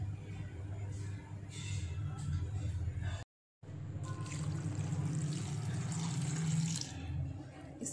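Water is poured into a pan of shallow-fried potatoes and cauliflower seasoned with salt, turmeric and chili, a soft continuous splash and sizzle with a short cut of silence midway.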